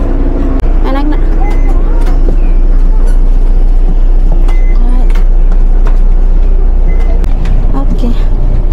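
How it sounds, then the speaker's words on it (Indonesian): A city bus in Japan moving, heard from inside the cabin: a loud, steady low engine rumble with road noise and occasional rattles and hisses, with passengers talking over it. "Oke, kita udah di bus. Busnya udah jalan guys."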